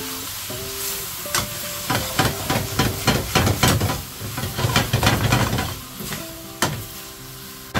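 Liver hits a hot pan for a pork mix dish, and the fat sizzles and hisses loudly as it is stirred, with clattering scrapes that grow busier in the middle before settling back.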